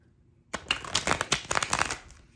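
Semi-gloss tarot cards being riffle shuffled, a rapid fluttering burst of clicking card edges lasting about a second and a half, close and crisp.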